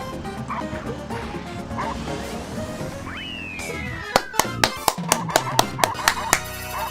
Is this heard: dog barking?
yes